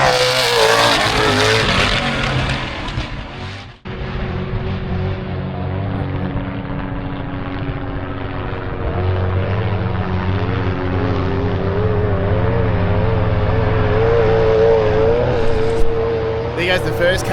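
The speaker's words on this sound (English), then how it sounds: "There goes the first car, no dust." A rally car speeds past on an outback dirt road in Australia, its engine roaring steadily and loud for most of the span with a brief dip, while a voice talks over it.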